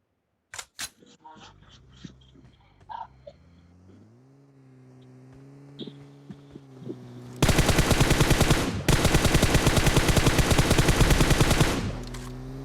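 Automatic gunfire in PUBG Mobile targets a vehicle: a few isolated shots and a rising engine drone, then a loud, rapid-fire burst that rattles on for several seconds before cutting off.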